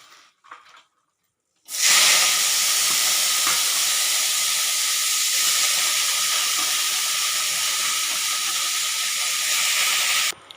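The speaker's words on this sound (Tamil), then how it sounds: "இதுக்கப்புறம் வந்து நம்ம புதினா, கொத்தமல்லி, கருவேப்பிலை இது மூணுத்தையும் சேர்த்து நம்ம வதக்கிக்கலாம்." Mint, coriander and curry leaves hitting a hot pan for pudina chutney, bursting into a loud, steady hiss of sizzling after a brief quiet start and holding evenly for several seconds until it abruptly stops.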